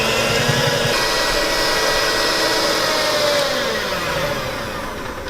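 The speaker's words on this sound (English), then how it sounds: "we're just going to take our hand mixer and we're going to waz this up into a nice, smooth, creamy mixture" Electric hand mixer whirring steadily through cheesecake batter for a summer dessert, a continuous loud motor drone that holds even and eases slightly toward the end, with no voices.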